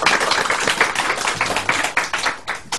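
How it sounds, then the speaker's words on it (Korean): A studio audience claps for a guest politician on a Korean talk show, a brief burst of dense applause with no talking. "박수 한번 주세요."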